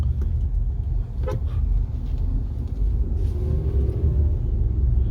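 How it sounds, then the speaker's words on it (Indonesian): Tire and underbody road noise fills the cabin of a 2022 Wuling Almaz RS Pro while driving, a steady low rumble that runs loud and unbroken throughout. "Dan dari tadi yang terasa itu lebih banyak suara ban dan suara kolong."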